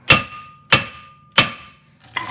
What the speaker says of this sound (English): we're just going to bang them off with a hammer